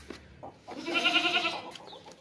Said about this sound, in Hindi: देसी बड़ी बकरी है माशाल्लाह से